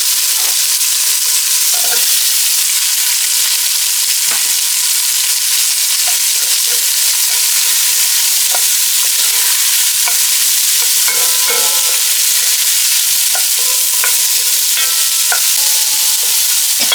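Onions fry in a pan for chicken and pork adobo, giving a loud, steady hiss of sizzling oil with scattered faint clicks and light stirring sounds running throughout.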